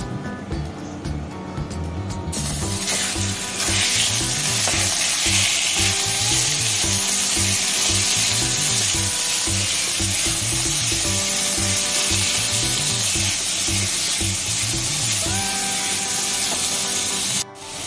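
Marinated chicken pieces frying in refined oil in a wok give a loud, dense, continuous sizzle with a rhythmic scraping stir running through it, close and steady for most of the stretch.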